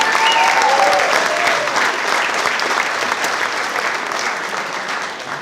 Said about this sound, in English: a round of applause for Blue Hills and Nicole for that.